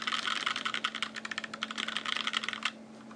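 Fast typing on a KBDFans Blade 60 keyboard with FFFF switches, a dense run of close, crisp keystrokes with a loose screw rattling inside the case, stopping near the end over a steady low hum.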